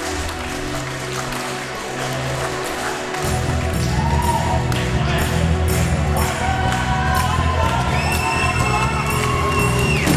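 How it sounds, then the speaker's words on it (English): A wrestling crowd cheers and shouts in a large arena, loud and continuous, with rhythmic clapping and music swelling partway through. "Are people actually cheering for the Rockstar?"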